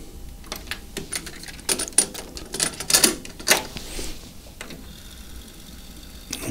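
Denon cassette loaded into a tape deck for calibration: a run of sharp mechanical clicks and clacks from the transport, irregular and close, with a faint steady hiss between them.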